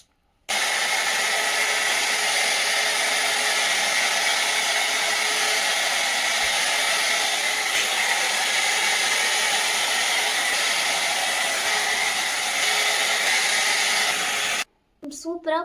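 A hot air brush blows hair into shape with a steady loud whooshing hum that runs almost unbroken for about fourteen seconds. It starts and stops abruptly, with a brief rustle after it switches off.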